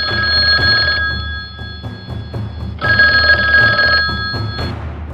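An old-fashioned telephone bell rings loud and close in two long bursts with a short pause between, the metallic trill continuous within each ring.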